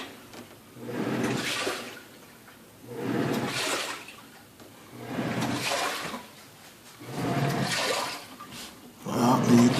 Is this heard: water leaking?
yes